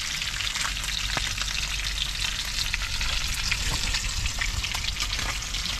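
Fish pieces fry in hot oil with a loud, steady, dense crackle that runs unbroken throughout, close and with no voices.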